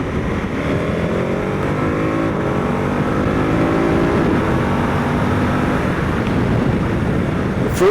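KTM 1290 Super Adventure S motorcycle accelerating hard, its engine note rising through gears with steady loud roar and heavy wind rush throughout.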